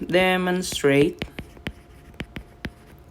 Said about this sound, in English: so let me write something